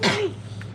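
A single short sneeze near the mic, bursting out at once and trailing off into quiet room noise.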